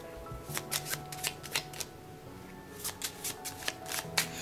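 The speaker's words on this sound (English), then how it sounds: "I have an ordinary deck of cards, and I'm just going to give them a quick shuffle" Cards riffle and snap in quick rapid bursts, two clear shuffles close up with a short pause between them.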